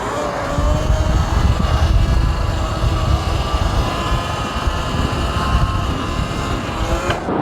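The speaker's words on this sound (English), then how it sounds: "I had no clue we were gonna come out and see a jet show." Loud, continuous jet roar at an outdoor jet show, broad and steady throughout with a rising whine near the end, as aircraft pass overhead with no talk.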